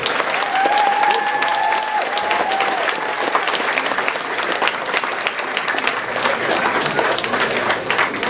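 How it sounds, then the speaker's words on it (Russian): Loud, sustained applause from a concert audience after a choir's closing piece at an anniversary celebration, dense and steady throughout, with a brief whistle-like tone near the start. "Бурные аплодисменты, бурные."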